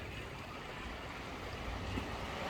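Sea waves wash steadily around rocks on the shore in a faint, continuous broadband rush with no distinct breaks or voices.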